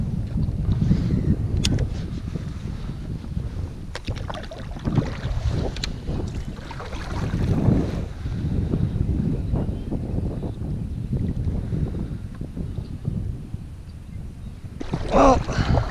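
Wind buffets the microphone and rushes steadily across open water on the California Delta while someone paddles and fishes from a Bonafide SS127 kayak, a loud, continuous roar with gusty swells and occasional knocks, with no talking.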